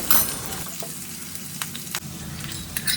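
Potatoes frying with cashews and raisins and a pinch of asafoetida in a pan over a low flame, giving a steady close sizzle with soft scraping as the mix is stirred.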